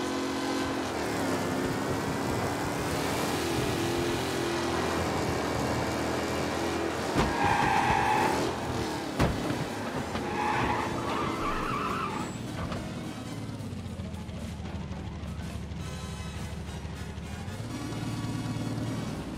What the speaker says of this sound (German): da fährt ein Rennwagen mit hohem Tempo